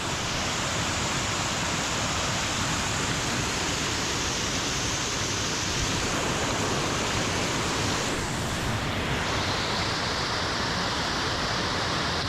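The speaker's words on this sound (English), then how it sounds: "We got a lot of waterfalls in Oregon." Small waterfalls in a tiny forest creek near Portland, Oregon, give a steady, dense rush of falling water that fills the whole clip at an even, close level with no voices.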